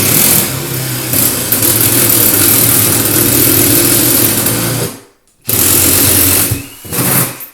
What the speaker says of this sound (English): now we got our hole drilled